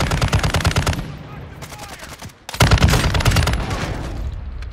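Rapid video game gunfire from an online shooter match, automatic bursts crackling almost without pause, dropping briefly near the middle, then surging back loud and dense with overlapping shots.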